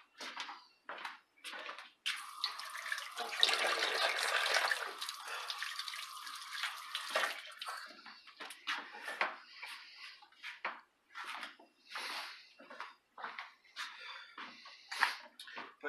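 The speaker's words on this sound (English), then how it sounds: "rinse my hands off." Running water from a tap splashes over hands being rinsed during hamburger prep for a hobo dinner, a soft steady rush for a few seconds before giving way to quiet kitchen clatter and small knocks.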